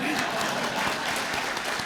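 An audience at a 2024 State of the City address claps in dense, steady applause that fills the room throughout, with a voice faintly underneath.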